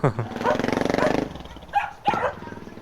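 A dog barks in a quick rapid series nearby, then gives a few more separate barks, with people talking around it.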